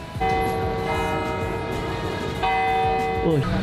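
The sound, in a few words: church bell ringing at Saint Joseph's Cathedral, Hanoi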